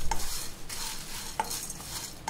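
Dried red chillies, chana dal and toor dal are stirred in a pan while dry roasting for sambar and rasam powder, giving a steady scraping, rustling stir with a few light metallic clinks from the spoon.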